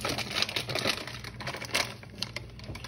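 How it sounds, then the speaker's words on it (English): A plastic bag of panko breadcrumbs rustles and crackles up close as it is opened, a continuous crinkly scrunching sound with no talking. "panko, which I'm going to open here just 1 minute."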